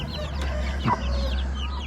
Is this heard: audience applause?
no